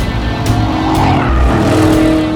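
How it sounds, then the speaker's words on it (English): A BMW E90 M3 with its high-revving cross-plane-crank V8 roars continuously at high revs, loud and sustained with a steady engine drone and no voices. "It made 420 horsepower, thanks to the highest redline of any cross-plane-crank V8 the world had ever seen."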